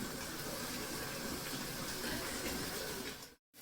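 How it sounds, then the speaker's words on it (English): Potatoes washed under a running kitchen tap, a steady loud gush of water splashing without a break, then a sudden cut-off near the end before the flow briefly returns. "I wash my potatoes"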